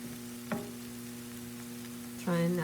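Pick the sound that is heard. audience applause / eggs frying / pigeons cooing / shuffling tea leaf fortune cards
eggs frying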